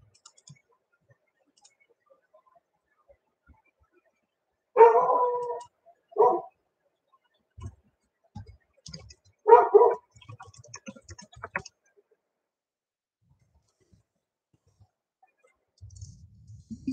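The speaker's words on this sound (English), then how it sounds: "Hear some barking. That's just my dog." A dog barks indoors in a few short separate bursts, moderately close, with quiet pauses and faint background noise between them.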